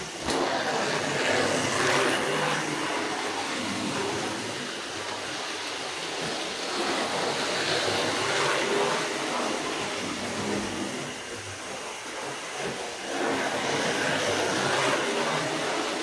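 A Hornby model train locomotive runs fast on a trainset, giving a continuous whirring motor drone that dips slightly midway and then rises again, fairly close and with no voices.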